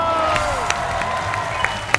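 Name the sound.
audience applause welcoming committee members on comedy show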